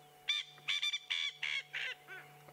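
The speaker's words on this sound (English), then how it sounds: "But it's an incredible sound, isn't it, for this little bird?" A small bird gives territorial calls, a rapid series of about six loud, harsh honking notes in a close burst, each short and nasal, with a faint steady hum behind.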